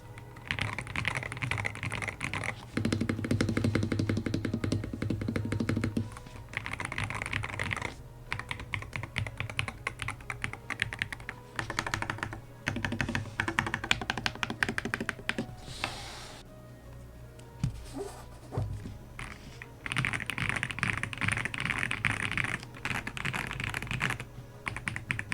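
Typing on a budget $30 computer keyboard, a quick steady clatter of key presses heard close up and alone, with brief pauses between bursts.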